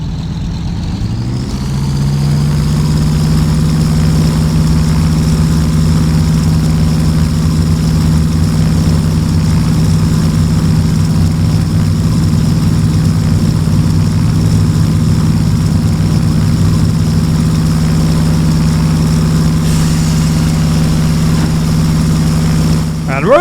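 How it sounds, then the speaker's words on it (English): A Pratt & Whitney Canada PT6A-25 turboprop on a Beechcraft T-34 Mentor in a flight simulator game spools up, then holds a loud, steady droning whine and low hum for a long stretch. "let's power up our Pratt & Whitney Canada PT6A 25 turboprop"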